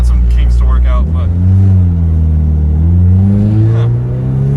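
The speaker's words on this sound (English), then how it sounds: "It's also idling really high." A roadster engine runs at a high idle near 2,000 rpm, a loud, close, steady drone whose pitch rises and sags slightly, with brief voices over it near the start.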